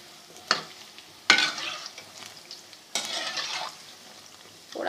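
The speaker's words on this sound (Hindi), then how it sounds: "थोड़ा सा उलट पुलट कर दें ताकि ये हर तरफ से फ्राई हो जाएं" Bread cubes frying in oil on a medium flame while a spatula turns them, with sharp scraping clatters against the pan between stretches of continuous close sizzling.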